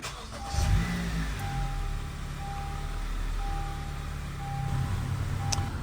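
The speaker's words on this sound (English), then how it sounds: "So let's go ahead and start the car and change gears for fluid circulation." A 2015 Honda Accord engine starts with a brief cranking burst, then settles into a quiet, steady low idle. Soft, regularly spaced electronic chime beeps sound over the hum.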